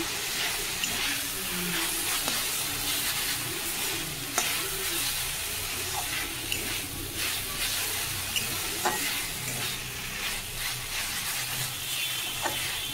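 Jute greens and potatoes fry in a pan with a constant loud sizzle, broken by scattered scraping and stirring clicks throughout, no voices present.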